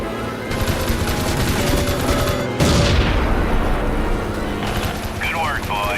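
Bombing-run explosions and rapid gunfire from the WWII Pacific flight game Heroes of the Pacific, dense bursts with a heavy blast midway and a radio-style voice speaking over the battle.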